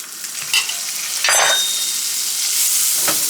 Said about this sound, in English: now I am going to add some more butter to that